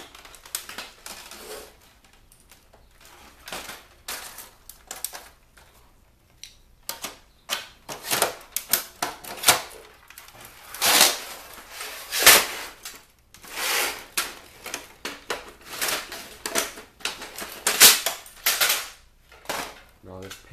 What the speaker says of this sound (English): now I'm just removing all the panels I can spot